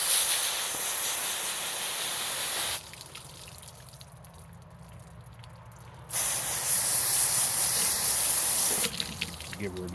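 A hose spray rinses a freshly cleaned lingcod, hissing loud and steady up close, cutting off for a few seconds in the middle, then resuming at full force.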